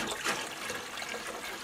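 Water pours into vinegar to make pickling brine for eggs, a brief close rushing splash that runs steadily without any voices.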